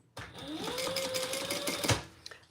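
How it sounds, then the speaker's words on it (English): A sewing machine stitches together the ends of strap connectors in a home studio, a steady close mechanical whir with rapid needle clatter for about two seconds before stopping. "I'm just sewing together the ends of my strap connectors so they don't move on me."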